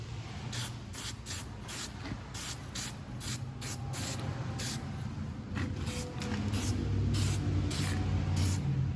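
An aerosol can sprays paint onto an old aluminum wheel in rapid hissing bursts and longer steady blasts, close up over a low background hum, with no talking.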